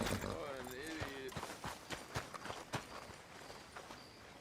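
Horses' hooves from a carriage in the video game Red Dead Redemption 2, a string of irregular clip-clop thuds at moderate distance, with a voice speaking briefly at the start.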